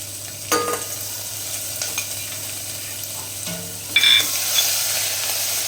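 Mixed vegetables with curry leaves, peanuts and ginger-garlic-chili paste stirred in a hot pan for Mehsana-style khichdi, a low steady sizzle with scattered spoon scrapes and a louder stir near the end, no talk.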